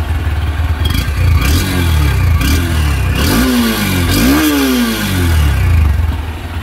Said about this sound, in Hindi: थोड़ा सा एग्जॉस्ट नोट देखते हैं इसका